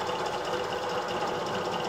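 A Japanese-made benchtop drill press runs steadily with a continuous mechanical whir and hum, moderately loud and close, with no talking.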